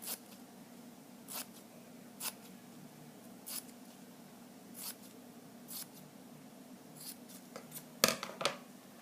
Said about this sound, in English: you cut it like this. Making slits in it.